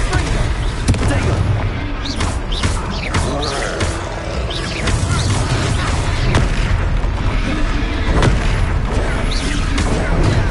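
Booming spell blasts from the Confringo fire spell in Hogwarts Legacy go off repeatedly over a dense, loud battle mix, with sharp bursts landing every second or so throughout.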